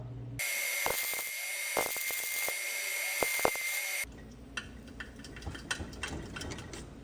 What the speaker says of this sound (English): we are going to crank up the voltage to number 3